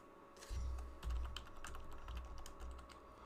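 Typing on a computer keyboard while entering data into an Excel spreadsheet, a close run of quick, irregular key clicks with a few heavier thumps, heard alone.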